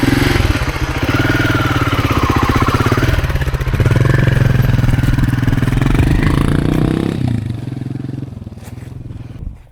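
An adventure motorcycle engine revs loudly and close as the bike rides off, its pitch rising and falling through gear changes before the roar eases and fades toward the end.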